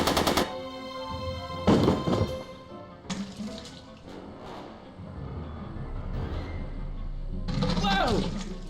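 Gunfire breaks out in a Back to the Future scene, loud bursts of shots mixed with shouting voices and dramatic film sound, the blasts clustered near the start and again midway, with speech under them.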